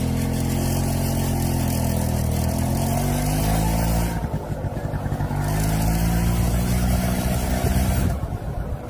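Small single-cylinder engine of a Honda Hobbit PA50 moped humming steadily while riding, with pitch rising and falling as it accelerates, close and continuous with brief gusts of wind noise.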